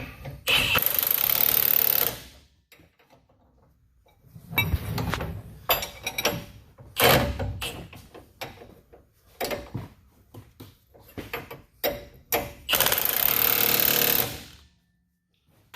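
A power tool tightens the front leaf spring bolts on a Roxor during a 2.5-inch add-a-leaf lift, with loud sustained buzzing bursts at the start and end and shorter rattling bursts in between, close up.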